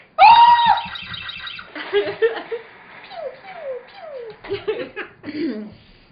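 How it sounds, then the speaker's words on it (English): A girl screams loudly in an old-time radio drama, a sharp high-pitched cry at the start, followed by frightened, sobbing voices and moaning under dramatic tension. "I heard her screaming"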